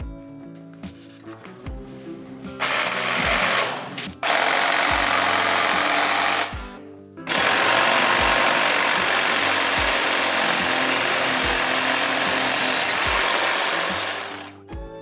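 A Vitals cordless reciprocating saw buzzes loudly and steadily through a flush cut, with brief pauses between bursts and the motor revving back up each time.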